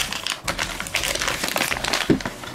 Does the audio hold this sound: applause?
no